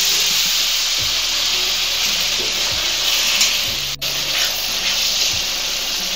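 Water poured into frying masala of turmeric, tomato and salt for an egg tadka, giving a loud, steady sizzling hiss that carries on throughout with no voice.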